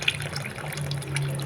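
Hot tap water runs into a basin of cold water to make a tepid wash for skeins of yarn unravelled from a thrifted sweater, a steady close pouring and splashing with no voices.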